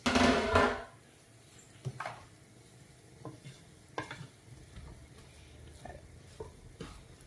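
Food stirred in a cooking pot, a loud scraping stir at the start followed by soft, sparse spoon scrapes and clinks over a quiet sizzle.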